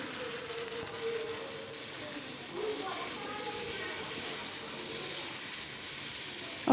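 Lentils fry in a pan with onion, garlic and ginger, giving a steady, moderate sizzling hiss that continues evenly throughout, with a voice faintly present underneath.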